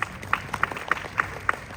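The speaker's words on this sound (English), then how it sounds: "So thank you for giving you a round of applause." A convention audience at WonderCon claps in a brief, uneven patter, with sharp individual claps standing out over a low crowd murmur.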